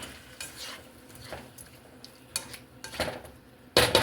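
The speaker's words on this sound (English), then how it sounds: "They're just small bay scallops. I'm going to add those in. And they won't take long to cook at all." Small bay scallops cooking in a pan for cheesy seafood garlic bread, with a soft sizzle and several utensil scrapes and clinks, growing louder toward the end.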